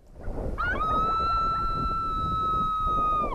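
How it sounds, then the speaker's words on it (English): A recorded female coyote invitation howl plays from a caller in the Canadian outdoors. It is a single long, steady, high-pitched tone that rises at the start, holds for nearly three seconds, then drops away, over faint wind. "Now I'm going to play female invitation howls."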